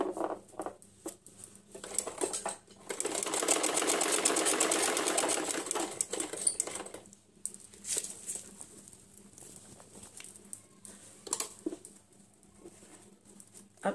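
A sewing machine runs in a steady rapid patter for a few seconds, surrounded by quieter clicks and handling noises.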